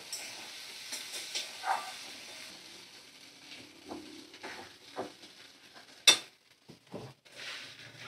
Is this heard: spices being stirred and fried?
yes